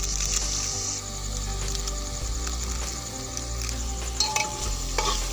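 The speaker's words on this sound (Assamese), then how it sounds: "লৰাই দিছোঁ গোটেইখিনি" A spoon stirs a masala mixture with Kashmiri masala, garam masala and Maggi masala in a hot pan, giving a continuous close sizzle with scraping and clinking strokes throughout.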